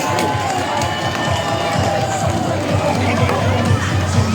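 Dense crowd noise at an outdoor Macau torch relay for the 15th National Games, a steady wall of cheering, chatter and applause from many people, loud and continuous throughout with no single voice standing out.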